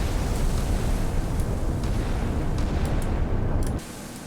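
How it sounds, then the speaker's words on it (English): A naval shell explodes against a warship's bridge in the naval combat game Sea Power, a heavy rumbling blast with crackling bursts sustained for several seconds before cutting off abruptly. "another shell hits the bridge"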